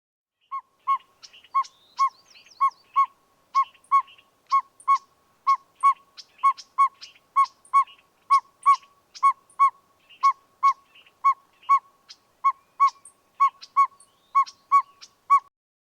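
A northern pygmy owl giving its high-pitched hoots, a long steady series of evenly spaced single toots repeating roughly every half second, clear and isolated against silence.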